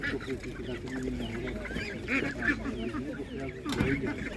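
Young geese and other fowl honk and cackle at an outdoor animal market, a busy jumble of bird calls close by with people talking over them throughout.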